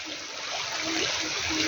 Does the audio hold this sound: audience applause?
no